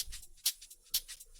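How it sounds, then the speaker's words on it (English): A sampled shaker in a melodic house track, side-chain compressed in Ableton, ticks out soft, airy bursts in a steady rhythm, with brighter accented hits swelling and ducking in a pumping pattern at low level. "So the shaker is just a sample."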